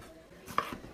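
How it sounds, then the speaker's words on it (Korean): A knife slices through tomatoes on a cutting board in a single soft, quick cut, faint and close, with no talking. "양파가 익을 동안 토마토를 썰어 볼게요"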